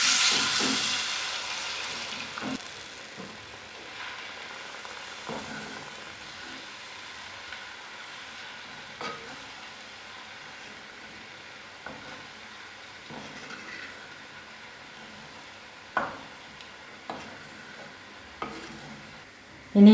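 Coconut milk simmering in a Kerala tilapia curry pot with tomato, a quiet steady bubbling hiss broken by occasional soft clinks and scrapes of a spoon stirring, with no voices.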